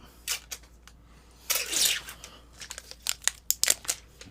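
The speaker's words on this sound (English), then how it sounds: "Literally just going to tape this thing so it stops spinning." Tape crackles and rips off a roll in a few sharp bursts, with one longer tear midway, close and fairly quiet, followed by small crinkling handling noises.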